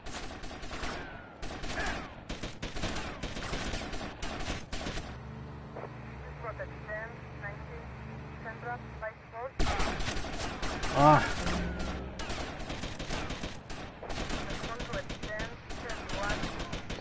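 Gunfire in Grand Theft Auto: Vice City rattles in rapid bursts, breaks off during a calmer musical stretch, then returns in a loud run of repeated shots while someone talks over it.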